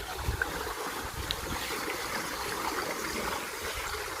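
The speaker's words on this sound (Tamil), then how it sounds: "பார்த்தீங்கன்னா வாய்க்காலில் தண்ணி போய்கிட்டு இருக்கு" Water flows through an irrigation canal in a garden beside a sugarcane field, a steady rushing wash heard outdoors with some wind buffeting the microphone.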